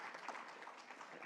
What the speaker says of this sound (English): we should give nice claps